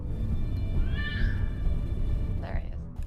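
A cat trapped on a lower floor of an apartment building gives two distinct meows, one drawn out and one shorter, over a steady low background rumble.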